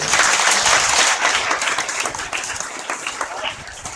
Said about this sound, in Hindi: तालियां बजाइए स्वामी जी।